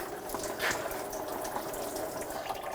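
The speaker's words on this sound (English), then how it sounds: "And drain the coolant. Just let it drain just like that." Coolant from a 2000-2006 BMW X5 3.0L L6 pouring steadily into a drain bucket, a continuous close splashing gush with no talking.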